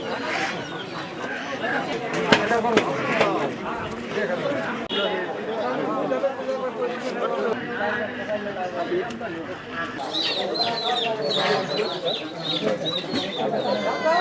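Chickens cluck and chatter steadily at a busy poultry market, with a rooster briefly crowing, while people talk throughout over the continuous birdsong.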